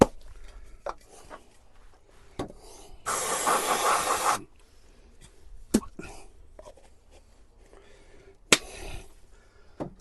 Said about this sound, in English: Some brake cleaner in there.